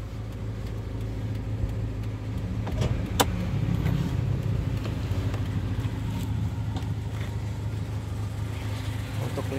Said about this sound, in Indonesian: Yuk kita cek kondisi mesinnya seperti apa.